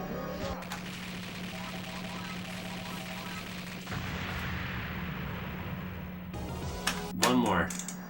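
Bomb blast and rapid shooting in the arcade shoot-'em-up Dodonpachi DaiOuJou: a dense, continuous stream of buzzing gunfire with a steady hum, swelling into a bomb burst near the end, with a voice speaking over it.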